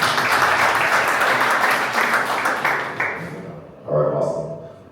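An audience claps after a football transfer talk, a steady round of applause that tapers off, followed by someone speaking over the quiet room at the end.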